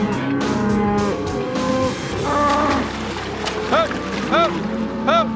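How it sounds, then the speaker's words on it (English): A herd of cattle pushed out of a swamp onto high ground, several loud nearby moos in overlapping calls, a rising bawl repeating every second or so near the end. "We got all these cattle pushed out of the swamp."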